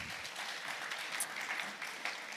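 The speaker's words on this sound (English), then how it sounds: "I think we all deserve a round of applause" An audience at a Zenith Capital Markets Day event breaks into applause, a steady, moderately faint patter of many hands clapping in a hall.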